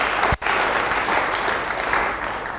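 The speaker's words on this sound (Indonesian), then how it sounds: "Yang percaya beri tepuk tangan" A church congregation applauds, filling the space with dense, sustained clapping from many hands, loud and continuous after a brief dip at the start.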